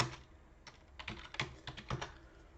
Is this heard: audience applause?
no